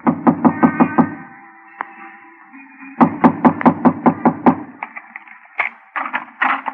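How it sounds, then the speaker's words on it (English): Two sharp, rapid bursts of knocking on a locked door, each about five or six quick raps, separated by a short pause, followed by softer thuds and faint voices in an old radio drama. "Knock on the door."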